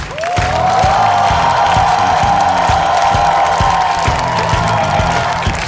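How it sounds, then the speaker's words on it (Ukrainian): Sustained applause from a studio audience at a Ukrainian comedy show, loud and steady throughout with dense clapping and some cheering, no talk over it. "Ваші оплески тим жартам, які читав Сергій Притула."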